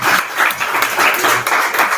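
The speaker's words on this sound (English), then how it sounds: "Let's give her a round of applause." A live audience at a leadership lunch event claps in a steady round of applause, loud and close, with dense continuous clapping throughout and faint voices mixed in.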